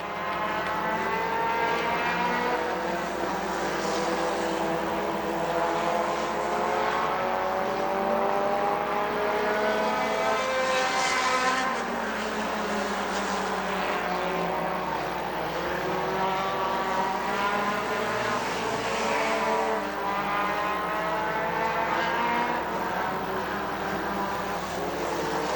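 Race cars roar around the Dixie Speedway dirt track in a stinger feature, engines rising and falling as they pass, loud and sustained with overlapping passes and no clear talk.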